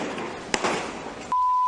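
Gunshots during a roadside ambush on a vice mayor's vehicle in the Philippines: two sharp, separate cracks about a second apart over a rough noisy background, then a steady electronic tone.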